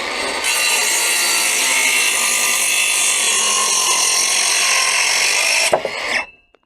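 A power saw cuts steadily through a timber gravel board, a loud continuous buzzing rasp lasting several seconds, then a brief clatter as the cut finishes and the saw cuts out into silence.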